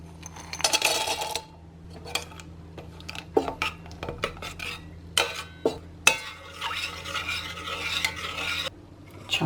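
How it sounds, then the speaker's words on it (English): Chocolate being stirred into melted butter in a pot, a utensil scraping and clinking against the pan in uneven strokes with soft sizzling between, close and clear. "we'll add the chocolate and stir it through until it's all melted as well"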